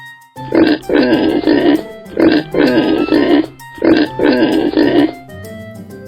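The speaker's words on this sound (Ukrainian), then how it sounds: "Діти, а ви пізнали, що це за тварина? Так, це свиня." A pig grunts loudly and close in three bursts of rapid, guttural snorts separated by short pauses.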